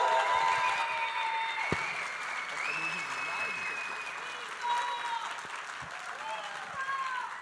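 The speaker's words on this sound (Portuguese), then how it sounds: "Salva de palmas." An audience applauds a keynote speaker being welcomed to the stage at a conference, with sustained clapping from a crowd that continues steadily throughout.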